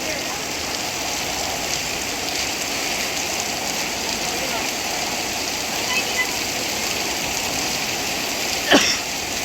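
Rainwater pours down through a leak with a steady hissing patter, constant and fairly near, with a brief sharper splash or knock near the end.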